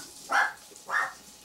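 Two barks from pet dogs indoors, short and moderately distant, spaced about half a second apart.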